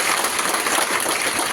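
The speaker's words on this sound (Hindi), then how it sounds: "मैं चाहता हूँ एक बार उनके लिए जोरदार तालियां।" Loud, dense applause from a large college audience fills the space, steady, close and continuous for a brief moment.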